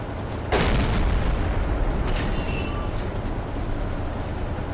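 Anti-aircraft gunfire in the submarine game Silent Hunter 3 opens with one loud, sharp boom, then trails into a sustained rumbling wash of distant fire and noise.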